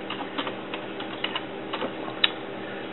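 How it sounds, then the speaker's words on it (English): Someone types a network SSID on a computer keyboard while setting up a Windows XP connection: a quick, irregular run of light key clicks, close and fairly quiet, with no talking. "Then type in the SSID."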